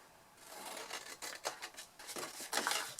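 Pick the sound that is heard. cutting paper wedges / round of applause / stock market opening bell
cutting paper wedges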